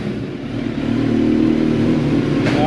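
A 2022 Suzuki Hayabusa fitted with an M4 exhaust revs up on a dyno, its engine rising into a loud, sustained, close drone.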